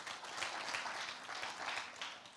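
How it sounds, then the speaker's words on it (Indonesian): A church congregation claps during a sermon, giving soft, distant applause that swells and fades in uneven bursts at low volume. "Tepuk tangan dong bagi dia, saudara."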